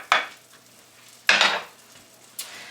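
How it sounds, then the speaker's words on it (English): Two tablespoons of butter go into a pan to start a sauce for a traditional Newfoundland turkey casserole: three short, close clattering bursts with a light sizzle, separated by quiet gaps. "We got 2 tablespoonfuls of butter. So put that in first."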